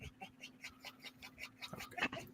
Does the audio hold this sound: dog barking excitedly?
yes